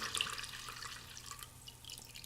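Filtered limoncello drips and trickles steadily into a container, a faint, continuous wet patter with small splashy droplets and no voices.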